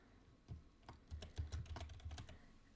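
Quick, uneven keystrokes on a computer keyboard while entering a short phrase, a brief flurry of close, soft clicks.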